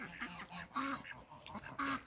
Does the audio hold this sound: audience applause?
no